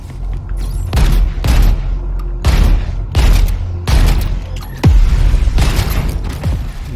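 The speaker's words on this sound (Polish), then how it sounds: "Dobra, no i wybuchło." Explosions in the Crackdown 3 video game arrive as a series of heavy booming blasts, roughly six loud bursts in an irregular rhythm, each with a rumbling tail, alone without speech.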